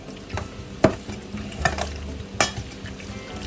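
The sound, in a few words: stirring squid into braised rice in pot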